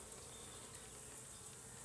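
Honey bees from a swarm being hived, buzzing inside an opened hive box, a faint steady hum with no talk.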